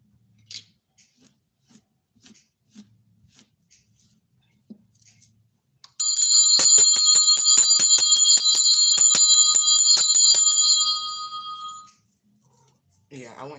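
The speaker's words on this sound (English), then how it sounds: "I got a bell" A small hand-held bell rung steadily for several seconds indoors, bright repeated ringing strikes close to the listener that fade out, after a stretch of quiet clicks and faint movement.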